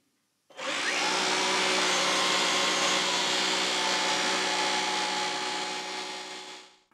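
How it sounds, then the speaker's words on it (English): A cordless vacuum cleaner switches on and runs with a steady, loud broadband whoosh and motor whine for several seconds, then begins to wind down at the end. "Hopefully it's not too noisy, because that can happen sometimes with cordless vacuums"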